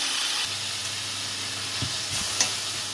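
Minced beef and garlic fry steadily in a pan, a soft continuous sizzle with a few faint stirring scrapes, heard alone with no talking.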